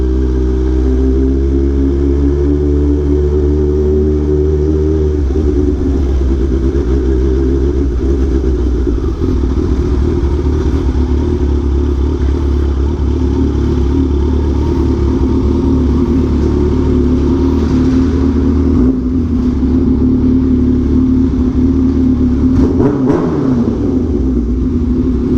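Kawasaki Ninja H2 motorcycle engine revving high on a sunset ride, a loud, sustained roar with a strong low rumble and wind noise, the pitch shifting as the throttle changes, with no speech.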